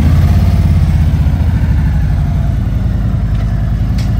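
A 2023 Harley-Davidson Road Glide Special with a Chrome Works exhaust idles close by, giving a loud, deep, steady rumble with an even low throb and no voices.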